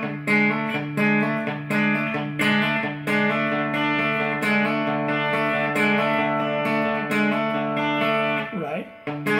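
Guitar plays the closing phrase of a song, with a processed, slightly distorted tone and a steady run of plucked notes ringing loud and close for several seconds.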